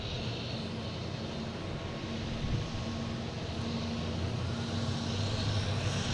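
A British Airways jet arriving from London Heathrow at Boston Logan airport, a steady broadband engine roar heard from a distance that holds at a constant level throughout, with no talking.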